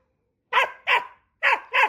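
A Laika hunting dog barks four times in two quick pairs, loud and close, with clean silence between the barks.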